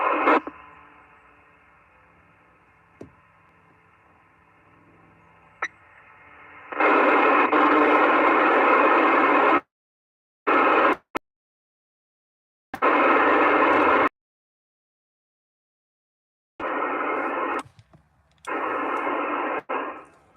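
Bursts of 10-meter FM radio transmission through a simplex repeater, laden with static, cut in and out, separated by dead silence, with faint clicks and squelch tails between the loud noisy segments.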